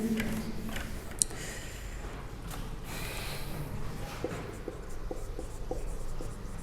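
Chalk or marker scraping on a board during an atomic physics lecture, a steady run of scratchy strokes with small taps, close and fairly quiet, with no talking.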